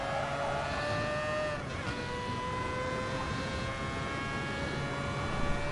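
A video game race car, the LM55 VGT prototype, whines past with a high tonal engine note that shifts in pitch as it accelerates and changes gear, heard steadily without talk.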